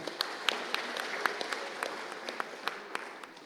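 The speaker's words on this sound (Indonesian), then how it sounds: "Mari kita berikan aplaus yang meriah kepada mereka." An audience at a church choir concert applauds for the Sora Pardis choir: steady, moderately distant clapping with many individual claps standing out.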